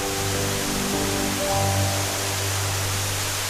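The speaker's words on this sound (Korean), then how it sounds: "비무장지대에 숨겨놓은 자연의 선물 이온 폭포입니다" Constant rushing roar of the Ein waterfall on the Ion River in Galilee, a river flowing from Lebanon into Israel, steady and even throughout with faint tonal music beneath.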